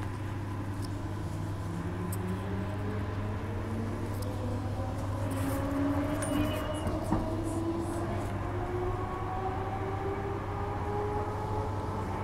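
A Fremantle line B-series electric train passes at steady speed, a continuous rail rumble with rising and falling motor whines that sweep past over several seconds. It sounds fairly distant and smooth, with no talk.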